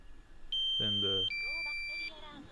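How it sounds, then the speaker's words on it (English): A drone's low battery alarm gives steady high electronic beeps, a short tone and then a longer held two-pitch tone, close and clear, with a brief burst of voice partway through. "low battery alarm"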